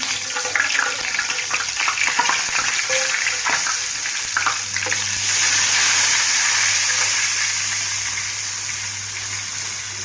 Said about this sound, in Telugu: ఇందులో కొంచెం పసుపు వేసుకుందాం